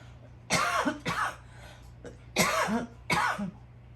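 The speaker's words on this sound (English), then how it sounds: "I'm sorry about the coughing." Four harsh coughs in two pairs, close and loud, with short quiet gaps between them and a faint steady hum underneath.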